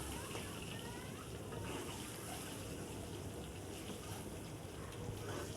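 An egg fries in a pan with a soft, steady sizzle that hisses evenly throughout, fairly quiet, with faint voices in the background.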